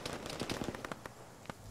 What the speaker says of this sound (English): Oh, you threw a grenade.